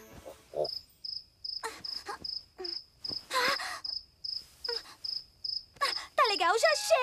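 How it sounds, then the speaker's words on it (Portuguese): A cricket chirps at night indoors in an animated cartoon scene, giving a steady series of short, evenly spaced, high-pitched chirps close by, with voices and other brief sounds mixed in. "Não dá pra dormir com toda essa barulheira. Eu vou achar o grilo, pegar o grilo e jogar o grilo pra fora de casa."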